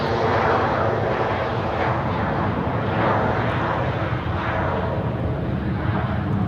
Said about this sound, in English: We have Sun Express and Iberia taxiing.